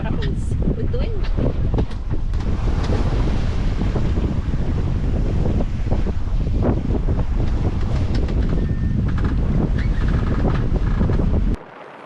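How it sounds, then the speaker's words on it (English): A sailboat beats upwind as the breeze strengthens. Strong, steady wind roars and buffets the microphone without a break, mixed with rushing sea water, and cuts off abruptly at the end. "The wind's picked up"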